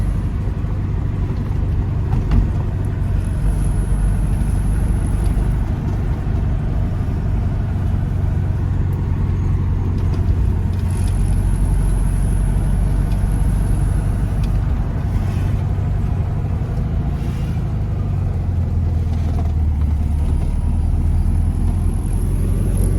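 Car engine fitted with a Solex 34 PICT carburetor, running steadily while driving in third gear: a continuous low engine drone with road rumble, loud and close, no talking.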